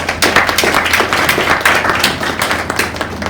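An audience at a Handloom Day conference claps steadily, a dense stretch of applause with many hands close by and no break.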